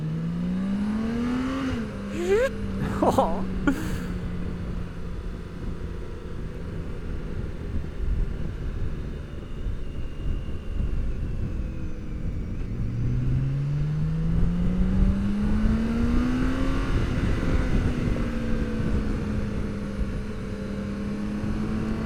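A BMW K1600B motorcycle's six-cylinder engine while riding, a smooth rising and falling drone as it accelerates through the gears, with wind rush under it and a brief exclamation near the start.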